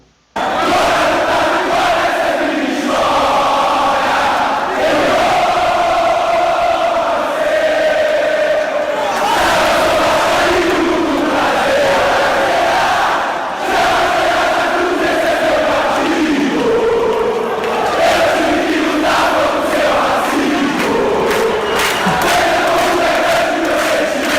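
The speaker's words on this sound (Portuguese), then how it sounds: "E aquela festa que só os torcedores brasileiros conseguem dar, mano, conseguem fazer na torcida." Brazilian football fans fill a stadium with roaring cheers and rhythmic, sung chants, a dense and loud crowd that carries on without a break for the whole stretch.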